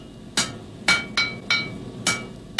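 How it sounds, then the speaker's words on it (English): A blacksmith's hammer strikes hot metal on an anvil in six sharp, ringing blows at a steady, slightly uneven rhythm, each with a bright metallic ring that fades quickly, heard close and clear with no talk. "The ring of the blacksmith's hammer was a part of rural life for centuries."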